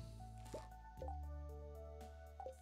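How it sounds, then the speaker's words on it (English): Soft squishy plops and drips from Stardew Valley as apples are picked off a fruit tree, three quick wet pops spaced about a second apart over quiet tonal game music. "We'll go ahead and grab these two apples"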